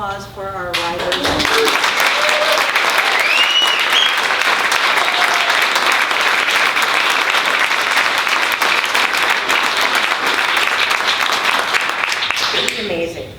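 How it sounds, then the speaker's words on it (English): Audience at a local writers' reading in a bookstore breaks into loud, sustained applause lasting over ten seconds, steady dense clapping that fades near the end. "We have one more round of applause for our writers."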